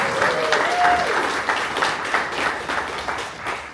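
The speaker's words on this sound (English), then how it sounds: "Round of applause" Guests at a Bronx Week 2026 sponsors appreciation reception give a round of applause for a Bronx Tourism Award recipient, with steady, full clapping that gradually thins toward the end.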